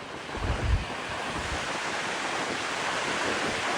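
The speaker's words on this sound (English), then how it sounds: "It's just windy." Strong wind roars across an open outdoor hunting spot in a steady, loud broadband rush, with heavy buffeting gusts on the microphone near the start, and no voices.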